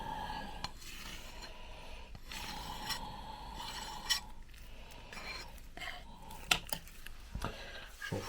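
Resin is cleaned off a 3D printer build plate with steady close scraping and rubbing strokes at a low level, punctuated by a few light clinks.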